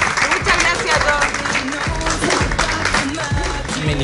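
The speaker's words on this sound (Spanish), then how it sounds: "Un aplauso para todos ustedes" Studio audience applauding a televised dance contest where suitors performed a pole dance, steady dense clapping filling the whole stretch with music or background voices mixed underneath.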